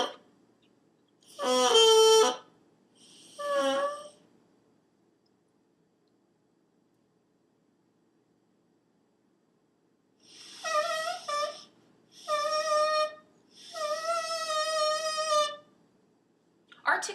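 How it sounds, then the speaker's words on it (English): A reed instrument plays a slurring exercise as separate sustained tones with clear harmonics: two short notes, a long silence, then three longer slurred phrases. "Now we're going to be doing a slurring exercise."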